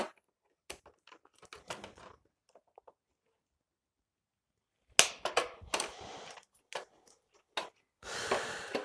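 A cable tie is snipped on a 2019 BMW S1000RR motorcycle while a tail tidy is fitted, giving a scatter of sharp, close clicks and snaps with handling noise and a quiet pause in between.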